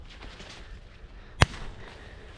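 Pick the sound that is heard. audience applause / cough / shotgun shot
shotgun shot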